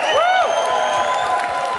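At a Grote Prijs van Nederland event presentation, a crowd cheers and applauds loudly, with a rising whoop and whistle-like shouts over a continuous wash of clapping and voices.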